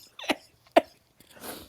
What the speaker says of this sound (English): She was trying to cough in silence